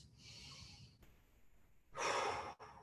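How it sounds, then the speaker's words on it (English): Deep, forceful breaths during a guided core-strengthening exercise, a long airy inhale followed by a louder rushing exhale, close to the mic with no talking. "let's go 5 big breaths"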